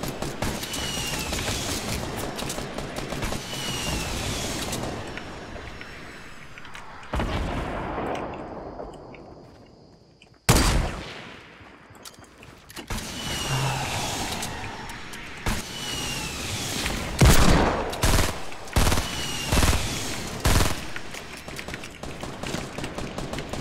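Gunfire in Fortnite Battle Royale, a series of sharp, loud shots spaced irregularly over about twenty seconds, some in quick clusters, with the game's background sound around them.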